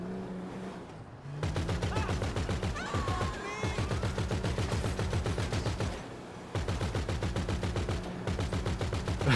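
Rapid automatic cannon fire in a video game, long loud bursts of fast repeating shots broken by brief pauses, with a voice briefly audible between volleys.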